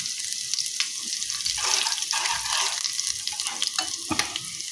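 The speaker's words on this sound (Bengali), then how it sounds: "এখন দিয়ে দিচ্ছি হাফ চামচ জিরে দিচ্ছি এক চামচ রসুনকে কুচিয়ে নিয়েছি আর তার সাথে দিচ্ছি দুটো শুকনো লঙ্কা" Cumin seeds, chopped garlic and two dried red chillies hit hot oil for a dal tempering, giving a bright continuous sizzle with crackling pops and a few spoon stirs close by.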